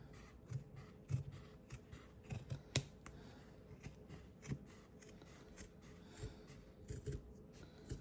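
Scissors cutting strips through stacked layers of felt for a garland, a quiet run of crisp, repeated snips and blade clicks at an uneven rhythm, close up with no talking.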